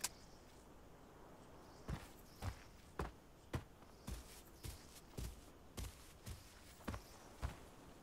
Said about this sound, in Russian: Еще шаги ближе.